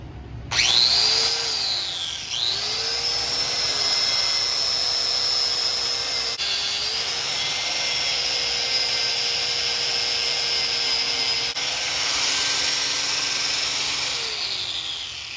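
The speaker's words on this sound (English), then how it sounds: "I'm gonna take this wire wheel and try to clean it up a little bit" A power tool spins a wire wheel against a Kawasaki KX450F dirt bike's drain plug area to clean off JB Weld, a loud steady whine with slight pitch dips as it bites, running continuously with no talking.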